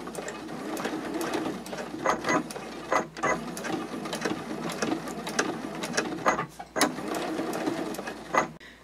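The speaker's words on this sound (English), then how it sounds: "I'm just basting 1/8 of an inch away from the edge" Sewing machine basting across the raw edges of a fabric D-ring tab on a card clutch, stitching 1/8 inch from the edge in steady, close runs of rapid mechanical chatter broken by short pauses.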